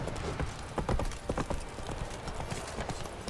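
In The Witcher 3, the horse Roach trots with steady, close hoof clip-clops over a constant background of game ambience.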